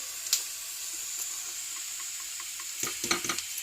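Mustard seeds, cumin, fenugreek leaves and garlic sizzling in hot oil, a steady crackling hiss with a few louder pops and spatters toward the end.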